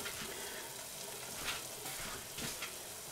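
Chilean seabass sizzles in a very hot air fryer, a steady soft crackling hiss with faint pops, close by and fairly quiet, with no voices.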